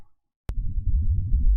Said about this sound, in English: This is the sound of Mars water.